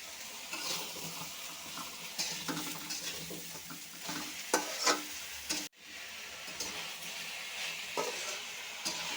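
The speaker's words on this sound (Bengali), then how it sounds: "একটু ভাজা ভাজা করে নিয়েছি" Ridge gourd and sponge gourd frying with green chillies and salt in a pan, with steady sizzling and repeated scraping stirs of a spatula throughout, close up, broken by one brief pause.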